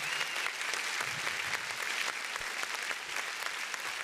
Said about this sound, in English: Please, you can clap some more.